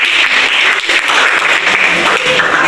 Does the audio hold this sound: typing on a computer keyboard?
no